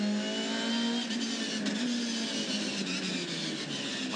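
A Supercars touring race car roaring past a trackside commentary box at a street circuit, a loud sustained engine drone with a steady high pitch, heard alone without voices.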